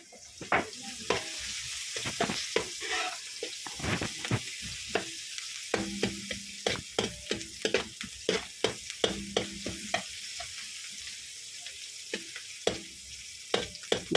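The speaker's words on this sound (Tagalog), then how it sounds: "Gisa-gisa lang natin muna ng maayos" Chopped onions and garlic sautéing in a hot pan, a steady close sizzle broken by repeated scraping and stirring strokes of a utensil, with no talking.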